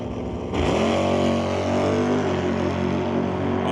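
A Super Pro drag race car pulls hard down the track at about 122 mph, its engine a loud, sustained roar with steadily rising pitch that stays close and dominant throughout.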